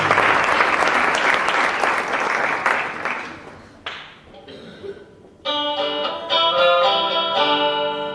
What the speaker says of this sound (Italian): Un applauso a Valerio Billeri.